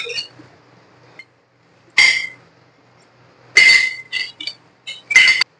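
Spices are stirred with a little water in a cooking pan while chicken is cooked at home. A metal utensil gives sharp clinks and scrapes against the pan in short, separate bursts with quiet gaps.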